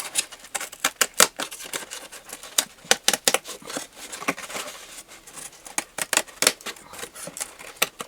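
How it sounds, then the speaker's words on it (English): Scissors snipping a paper circle for a papier-mâché top hat, a fast irregular run of close, crisp cuts and rustles with brief pauses between bursts. "And I'm going to cut the rest of the circle."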